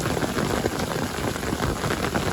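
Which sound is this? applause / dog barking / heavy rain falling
heavy rain falling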